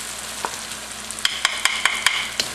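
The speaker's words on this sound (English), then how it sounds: "I'm going to add in my garlic." Garlic hits a hot frying pan beside softened, browned onions in a chicken jalfrezi, giving a soft sizzle under a string of quick, sharp clinks and scrapes from stirring near the end.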